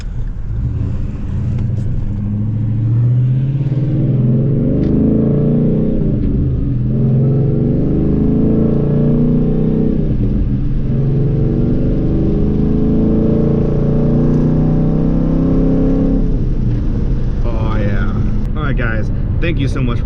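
A Ford Mustang fitted with an SLP resonator and muffler-delete exhaust rumbles steadily and loudly for about twenty seconds with a deep, continuous engine drone, swelling briefly near the end, while a voice talks over it.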